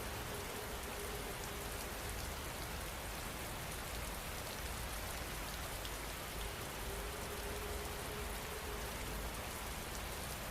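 Steady rain pours without letup, a dense even hiss of drops striking a surface at moderate level and unbroken throughout.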